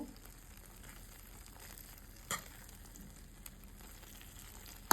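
Carrot halwa with ghee and milk powder cooks in a pan, giving a quiet, even sizzle with one soft knock midway and a sharp tap at the very end.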